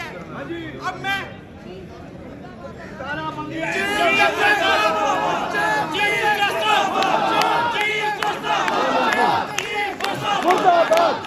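A crowd of lawyers chants protest slogans against the chief justice in a street protest, loud rhythmic shouting voices in unison over a babble of crowd noise, swelling after a quieter start.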